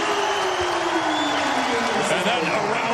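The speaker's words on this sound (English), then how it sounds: "this is the loudest I've heard the crowd in 3 or 4 games" A basketball arena crowd at a Gonzaga home game roars in sustained cheering, a loud continuous wash of voices with whoops, while a commentator talks over it.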